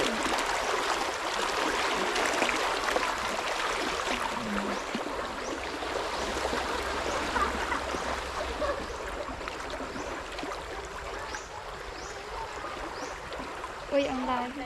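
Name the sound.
strong flowing river water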